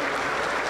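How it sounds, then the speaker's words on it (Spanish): Applause from a Pentecostal church congregation, a dense, steady wash of clapping that fills the whole brief moment at close range. "Aplauso para el Señor Jesús"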